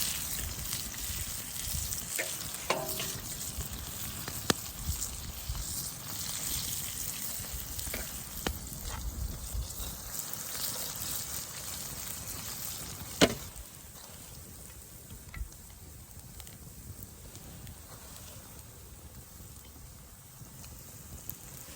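Walleye cheeks fry in a pan over an open campfire, giving a steady, close crackling sizzle with a few sharp clicks and pops from cooking and turning the pieces. No one talks.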